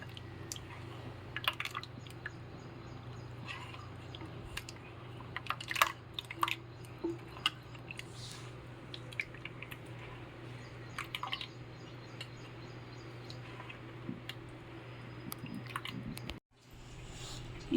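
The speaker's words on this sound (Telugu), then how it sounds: "ఈ మసాలా వేసి ఈ చింతపండు గుజ్జును మనం ప్రిపేర్ చేసుకున్న మసాలాను వేసి బాగా కలుపుకోవాలి" Tamarind pulp being stirred together with ground masala for a fish curry, soft wet squelches and light clicks recurring irregularly at a quiet, close level, with a brief pause near the end.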